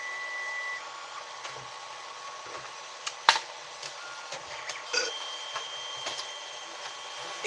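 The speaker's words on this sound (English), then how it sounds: "As the 3D printer sings away" A 3D printer runs nearby with sustained tonal whines and stepper-motor sweeps, punctuated by sharp clicks and ticks at a moderate, fairly quiet level.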